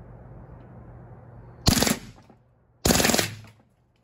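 Two loud bursts of full-auto fire from a Gamo/Hatsan air gun shooting a flat screen TV, each rapid rattle lasting under a second with a pause between.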